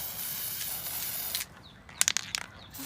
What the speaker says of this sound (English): just spray your brakes with them